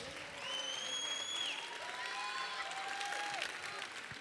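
Sustained applause from a concert audience, steady clapping throughout with a few whistles rising above the crowd noise.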